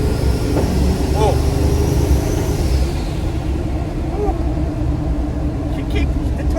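A Duramax diesel pickup truck without a tune drives and accelerates, a loud, continuous engine rumble and drone heard from inside the cab, with tonal whine rising and shifting over road noise.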